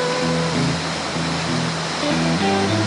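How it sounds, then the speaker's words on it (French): A waterfall cascade on a trout-fishing outing rushes with a steady, broad roar of falling water, close and constant, with a faint low tonal hum underneath. "elle reste toujours aussi agréable cette cascade"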